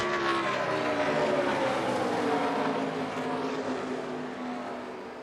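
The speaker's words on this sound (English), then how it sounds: "See Corey run a little bit higher on the racetrack, trying to find a little bit more grip up there." ARCA stock race cars lapping Michigan International Speedway, a loud continuous engine roar close by that slowly fades as the cars pass.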